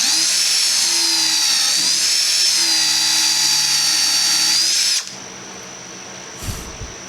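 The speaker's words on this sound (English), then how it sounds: "And I'm just countersinking for the head." A power drill countersinks a screw hole for the head in a Tango 18 build, whining loud and steady with a wavering pitch for about five seconds, then cutting off to quiet room noise.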